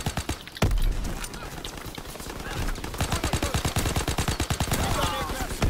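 Gunfire in the World War II shooter Call of Duty WWII: loud rapid bursts of automatic weapon fire with a heavy opening shot, then dense rhythmic volleys crackling alongside other battlefield noise.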